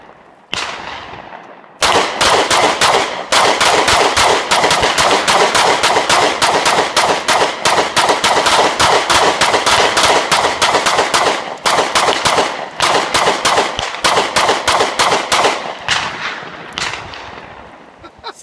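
Two Taurus Millennium G2 PT111 9mm pistols with 30-round magazines fire at once in a long, rapid string of sharp, loud outdoor shots. Brief pauses break the string before it trails off, with faint talk at the edges.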